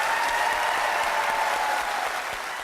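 Studio audience applause at a live paranormal TV show in Manchester, a loud, even wash of many hands clapping throughout, tapering slightly at the end.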